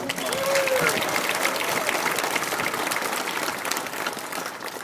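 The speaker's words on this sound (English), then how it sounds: "Let's give them another round of applause." An audience at a Fourth of July celebration applauds a barbershop quartet, a full rolling wash of clapping that holds steady and thins slightly near the end.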